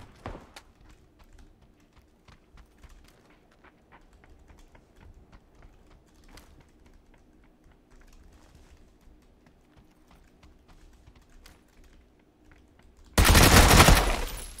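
Bizon submachine gun firing in PUBG on the Erangel map, a sudden loud burst of automatic fire near the end after a long stretch of quiet clicking and soft game noise.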